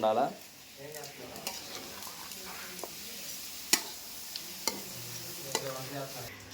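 Salted pork curry sizzling in a pan while being stirred, a soft steady fry with scraping stirs and a few sharp utensil taps against the pan, fairly quiet and close.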